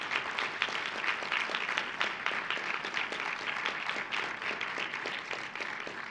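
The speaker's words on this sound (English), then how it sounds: "I want to give another round of applause to these three brave young people who came up here tonight" An indoor audience at an evening event applauds, a dense, even patter of many hands clapping continuously.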